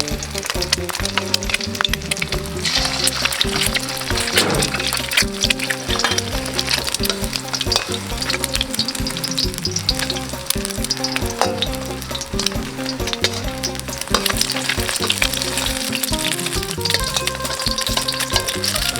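Loud, continuous hissing and crackling of oil spitting in a hot pan, with dense popping throughout and no clear voices.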